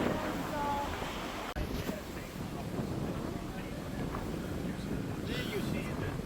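Steady wind buffeting a microphone, a continuous rushing roar with a brief dropout, faint voices murmuring underneath.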